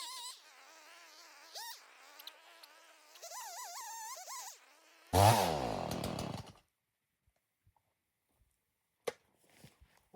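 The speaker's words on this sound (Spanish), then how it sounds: "con esta motosierra que nos podemos meter por cualquier sitio" A chainsaw prunes an old olive tree around 500 years old, its buzzing engine rising and falling in pitch through the cut, with a louder burst of revving near the middle before it cuts off into near silence.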